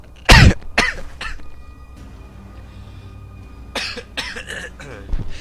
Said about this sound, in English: try not to cough into the mic, I apologize